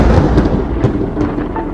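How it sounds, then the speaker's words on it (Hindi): A loud, booming thunder crack in an animated horror story, a heavy rumbling roar that fills the whole short moment with no speech. "तभी जोरदार बिजली कड़कती है और सारा माहौल एकदम से बदल जाती है।"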